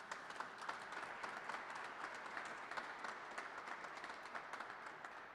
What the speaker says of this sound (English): Let's give a big round of applause to all these Kentucky companies.